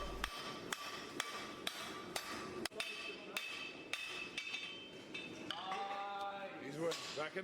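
A smith hammers a hot knife blade at the forge during a three-heat challenge, sharp metallic strikes landing in a steady, close rhythm, followed by a ringing, scraping tail toward the end.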